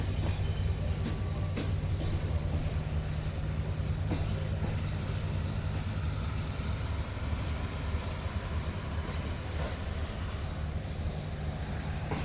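The Shalimar Express rolls into Kotri Junction with a continuous low rumble and hiss of wheels on rail, plus occasional faint clanks, steady and fairly distant, with no talking.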